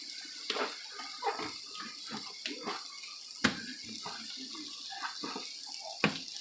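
A cutting board is scrubbed and rinsed under running water in a kitchen, with a soft steady stream punctuated by irregular knocks and clatters of the board against the sink, fairly close.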